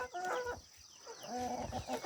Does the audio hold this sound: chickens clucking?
yes